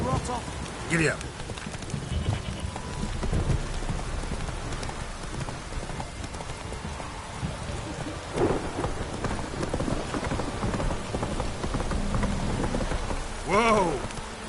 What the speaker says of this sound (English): Don't stop raining, my arse will rot off.